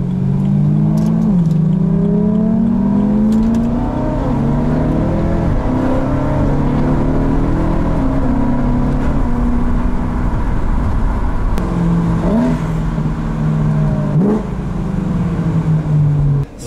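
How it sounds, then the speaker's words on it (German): A BMW E92 M3 coupé with a G-Power exhaust and its flaps open accelerates hard, a loud, close, continuous engine roar with rising pitch sweeps and brief shift breaks throughout. "Patrick macht erstmal schön die Klappen auf"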